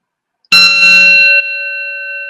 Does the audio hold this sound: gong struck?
yes